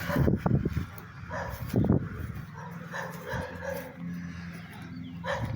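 A few dogs barking and yipping at a moderate distance, short bursts early on, then quieter background noise with a faint later yelp.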